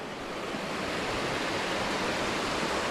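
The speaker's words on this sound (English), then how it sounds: "I'm going to take a look at this waterfall." A small waterfall spills down a brook along the Signal Ridge Trail on Mount Carrigain in the White Mountains, giving a steady, close, full rush of falling water with no voices.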